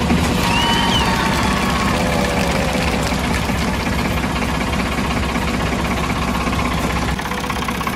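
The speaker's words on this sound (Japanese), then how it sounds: "それではこれでエンジンのキーを回したら" A car engine starts via a jump starter after a flat battery, then idles with a steady, rough rumble throughout, loud and close, settling slightly near the end.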